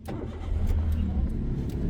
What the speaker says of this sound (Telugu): ఇక ఇప్పుడు ఒకసారి స్టార్ట్ చేస్తున్నా, కొద్దిగా మూవ్ చేసి చూద్దాం.